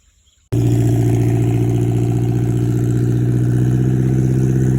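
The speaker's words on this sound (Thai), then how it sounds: "เรือเยอะนะครับ ที่นี่เขายังใช้เรือกันอยู่นะครับ" A boat engine on a canal starts abruptly after a brief quiet moment, then runs loud and close with a steady droning hum and a slight rhythmic throb.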